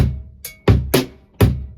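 Sharp metallic cowbell strikes in straight eighth notes with a deep drum thump beneath, a handful of crisp hits close up in a quick pattern.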